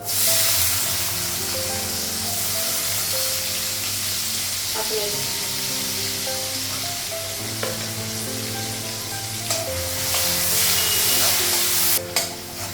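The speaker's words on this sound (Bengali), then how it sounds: "পাঁচফোড়ন, এলাচি, পেঁয়াজটা লাগাবো" Onion fries in hot oil with panch phoron and cardamom, sending out a loud, steady hiss and sizzle with scattered stirring clicks and a sharp clatter near the end.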